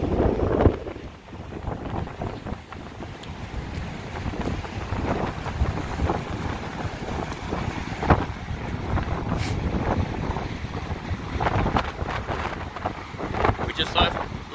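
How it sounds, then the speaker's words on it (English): Big Lake Michigan waves about 14 to 16 feet high crashing on the shore in Chesterton, Indiana, in heavy wind. Repeated surges and booms stand out over constant roaring wind buffeting the microphone. "14, 16 foot waves coming in, crashing in."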